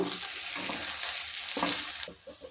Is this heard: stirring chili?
yes